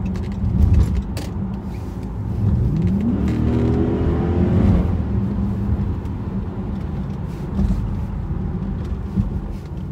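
A 2011 Dodge Charger R/T drives through city traffic with a steady engine hum and tire whir that swells into a rising rev as it accelerates mid-stretch, then settles back to a cruising drone.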